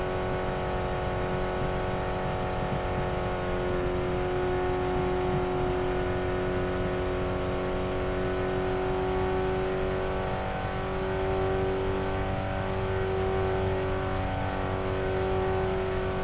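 A race car engine in the RevHead video game at Gutta Raceway drones steadily at high revs, its tone wavering and shifting slightly as the RPMs are held up, loud and continuous throughout.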